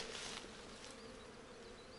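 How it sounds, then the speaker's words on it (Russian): Steady insect buzzing fills the clip, a dense hum of bees close by on raspberry flowers with no voices, continuous from start to finish. "Пчелки жужжат."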